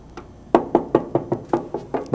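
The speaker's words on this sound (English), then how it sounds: "Still tapping all the way around the aircraft." Steady knocking taps on an aircraft's skin during a pre-flight check, about ten evenly spaced hollow knocks, close and clear with no talking.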